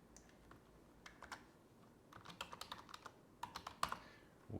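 Computer keyboard keys tapped while a new file name is entered in laser-engraving software setup; soft, fairly quiet clicks come in irregular bursts, sparse at first and then quicker, over a low background hiss.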